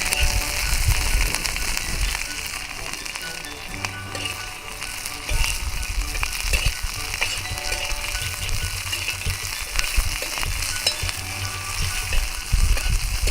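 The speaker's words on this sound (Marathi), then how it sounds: "बघा ही आपली मिरची कशी भाजते बघा" Village green chillies roast in a pan, giving a steady crackling sizzle with intermittent scraping and stirring clatter that stays loud and continuous throughout.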